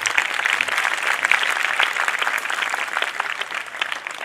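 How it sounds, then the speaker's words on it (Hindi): Steady applause from a Catholic congregation during a talk on the Virgin Mary, a dense, even patter of many hands clapping throughout, fairly close and with no voices over it. "तालियां इसके लिए"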